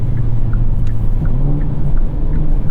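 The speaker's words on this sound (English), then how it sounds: "The rev matching. Pop, pop, pop, pop." A 2022 Hyundai Elantra N prototype engine holds a steady, loud, close droning rumble with light rev-matching pops flickering through it, and no voices.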